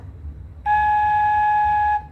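A single sustained ti note on a khlui flute, held steady for over a second, clear and fairly loud against a quiet low rumble.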